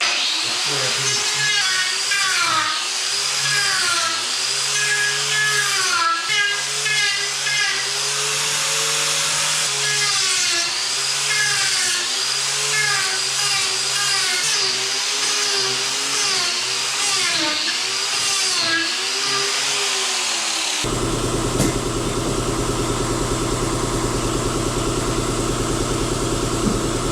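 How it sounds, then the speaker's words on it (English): An Arbortech power tool rounds off a square wooden piece to give campfire furniture a rustic look. A steady, loud motorized whine with a wavering pitch runs throughout, turning into dense, rough grinding noise near the end. "I'm going to round it with this tool"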